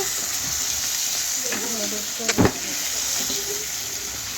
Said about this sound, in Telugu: పీత ముక్కలు అయితే దీనిలో వేసుకొని ఈ మసాలాలన్నీ వీటికి కలిపేలా